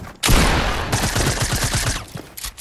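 Rapid bursts of gunfire in a Fortnite match, a close, loud volley of shots fired in quick succession, then a brief pause and a few trailing shots.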